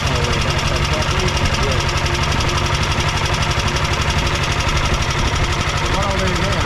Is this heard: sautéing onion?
no